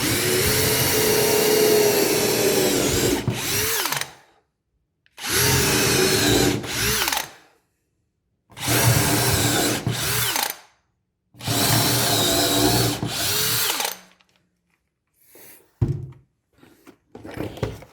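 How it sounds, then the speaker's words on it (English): A power drill pre-drills a hole in four long bursts separated by pauses, whining steadily then winding down each time, followed by a few faint knocks and clicks. "Pre-drill."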